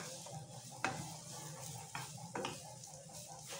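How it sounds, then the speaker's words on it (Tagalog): Onions sautéing in cooking oil for chicken adobo give off a quiet, low sizzle, with a few soft spoon scrapes against the pot. There is no talking. "Gisa muna natin yung sibuyas."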